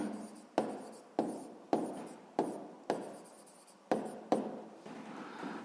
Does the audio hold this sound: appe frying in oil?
no